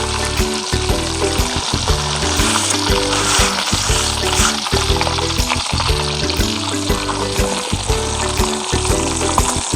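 A whole beer-battered chicken deep-fries in hot oil, making a loud, continuous close-up sizzle and bubbling that stays steady throughout with no talking.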